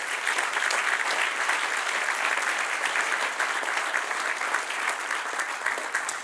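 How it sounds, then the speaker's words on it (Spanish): A church congregation bursts into applause during a sermon, dense sustained clapping from many hands filling the room evenly at moderate distance, with no talk over it. "Dale un aplauso."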